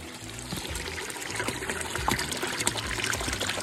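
Water is pumped into a diamondback terrapin pond, trickling and splashing steadily as it flows in through the plants, a close, continuous gurgling stream with small bursts.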